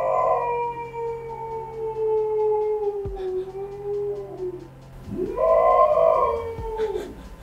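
A pet dog howls at a passing fire truck siren indoors, one long sliding howl that fades, then after a short pause a second rising and falling howl, loud and close.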